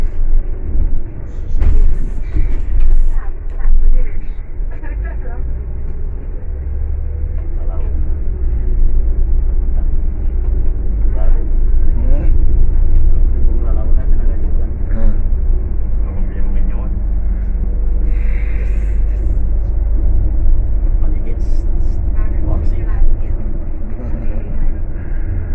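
Steady low rumble of a new bus rolling along roads near Madinah, heard from inside the cabin with continuous road and engine drone, while someone talks over it throughout.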